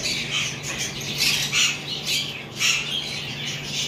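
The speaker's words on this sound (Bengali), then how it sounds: "আমাদের কাছে আরও কিছু রয়েছে লাভবার্ড এই পাশের খাঁচায়" Several lovebirds kept in cages at a bird sale squawk and screech in repeated harsh bursts, fairly close and loud over a steady low background hum, with no talking.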